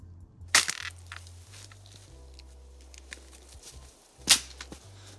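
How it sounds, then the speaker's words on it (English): A loose rock smashed against frozen rocks at a winter camp in Canada, two sharp cracking impacts well apart over a quiet outdoor background, close by with no talk. "I got one rock loose, and I'm using it to smash the other one's free."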